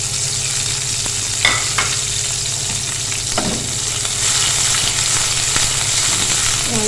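Chillies sizzle in hot oil for a moong dal tadka, a steady crackling fry with a few sharper pops and stirring scrapes, close and continuous with no talking.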